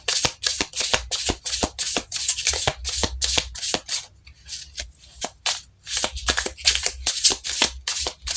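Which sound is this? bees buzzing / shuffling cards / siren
shuffling cards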